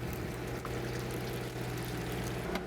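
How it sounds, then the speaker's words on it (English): Seawater pours steadily from a hose into a barrel holding live lobsters, a soft continuous gurgle and trickle over a low hum, with a small splash or clink partway through. "We have a hose constantly pouring fresh oxygenated seawater into the barrel."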